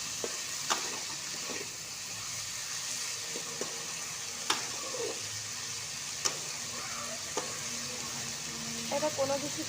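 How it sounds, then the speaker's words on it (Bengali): Potatoes and beans fry in oil in a wok with a continuous soft sizzle, broken by sharp clanks and scrapes of a spoon stirring against the metal, plus a short rustle near the end. "কড়াতে তেল দিয়ে অল্প করে বিনস আর আলু তেলের মধ্যে দিয়ে দিলাম"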